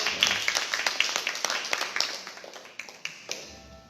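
Congregation applauding during a church service, a moderate crowd clapping steadily in a roomy hall, the claps thinning out and dropping to a few scattered hits near the end.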